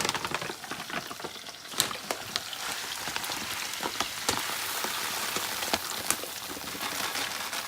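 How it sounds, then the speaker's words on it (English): Rice dumped into a hot pan for Spanish rice crackles and sizzles steadily, a dense broadband hiss with scattered sharp pops throughout, fairly close and with no talking. "So now, I'm going to dump in rice and I'll show you what I mean."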